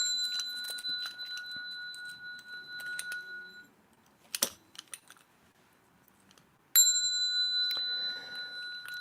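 A small temple bell is struck twice during a Buddhist sutra lecture, each a clear ringing tone that lingers for several seconds, with light clicks and taps between the strikes.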